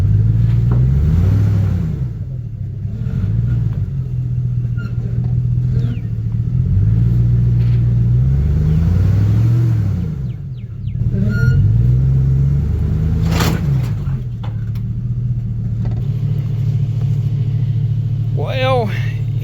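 A Ford Maverick truck stuck in mud, its engine revving and rumbling loud and close in repeated surges, rising and falling as the wheels fail to find traction.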